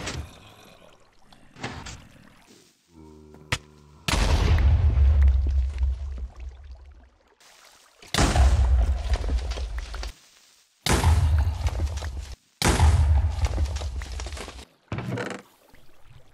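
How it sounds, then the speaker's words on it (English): Charged creeper explosions in Minecraft blast in repeated loud bursts, each a long, booming roar with a rumbling tail, separated by short pauses and preceded by a few quieter game clicks and effects. "that's where we'll let the supercharged creeper explode"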